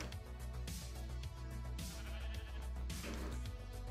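Sheep in Minecraft bleating over and over in close, loud calls, one after another with no gaps and no voices.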